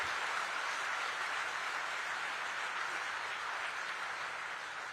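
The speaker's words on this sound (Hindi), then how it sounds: "एक बार जोरदार जानदार तालियों के साथ अपनी भावनाओं को व्यक्त कीजिए" Applause from the audience at the commissioning ceremony of the Indian Navy aircraft carrier INS Vikrant, a steady broad wash of clapping that holds at a moderate, fairly distant level for the full span.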